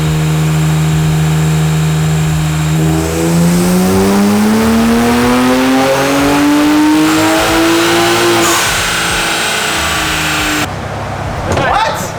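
A high-mileage BMW E46 M3 engine fitted with cheap eBay turbos runs on a dyno, its loud tone climbing steadily through a long pull before cutting off sharply near the end; voices speak under and after the run.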